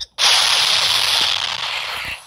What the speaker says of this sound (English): I was just in that big explosion.